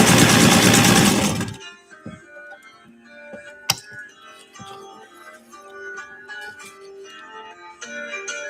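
A Dressmaster Model 127 sewing machine stitches with faint, fast, even ticking and mechanical whirring, close by, after a burst of loud music at the start.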